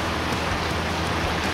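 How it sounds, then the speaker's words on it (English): Steady rain falling in Farming Simulator 19 on Shamrock Valley with seasons, a dense even hiss of drops hitting surfaces, continuous and fairly loud with no voices. "I'm going to fast forward it so it doesn't rain as much"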